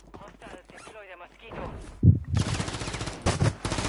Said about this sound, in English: I was shooting at him